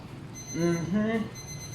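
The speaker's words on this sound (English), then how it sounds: "That's a timer again." A kitchen timer alarm rings with steady high-pitched tones that run through most of the moment, briefly broken as a voice speaks over it in the middle.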